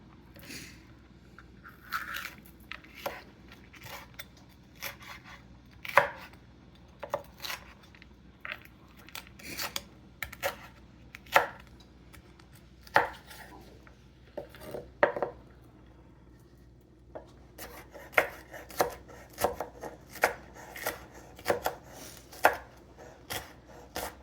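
A knife chopping a pepper for chorizo chili beans on a cutting board: a series of sharp, close taps in uneven bursts, some quick runs and some spaced strokes, with a faint background hum.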